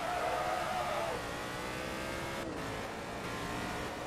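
A class R3 race car engine in Forza Motorsport 2 drones steadily at a sustained, strained pitch, then dips slightly midway, alone with no talk.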